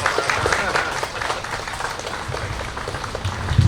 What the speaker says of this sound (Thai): ขอเสียงปรบมือให้กับพิธีเปิดในวันนี้